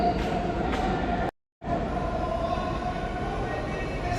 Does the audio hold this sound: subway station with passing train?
yes